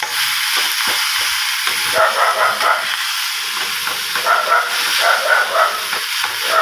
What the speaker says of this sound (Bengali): সেই চিংড়ি মাছ বাটাটা তেলের মধ্যে দিয়ে দিলাম। আর মধ্যে নাড়াচাড়া করে ভালো করে কষিয়ে নিই।